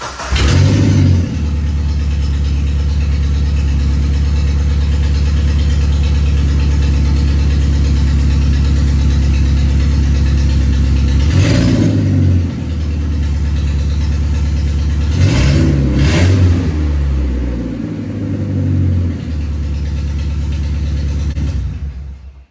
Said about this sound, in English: let's start this thing up with no cats and no muffler on it.